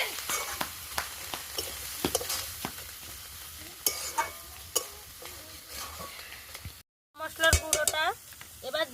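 Rohu fish pieces frying in a pan for pakora, with a steady sizzle under repeated scraping and stirring clatter, a short cut in the middle, then louder bubbling and stirring near the end.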